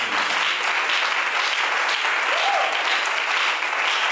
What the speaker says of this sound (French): Acclamez fort